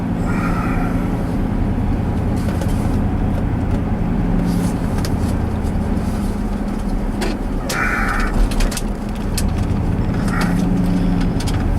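A tow truck's engine runs at a steady low rumble close by, with intermittent hissing and clanking bursts over the drone.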